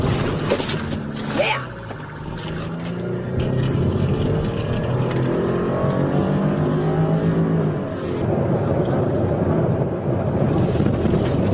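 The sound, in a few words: car speeding in a police chase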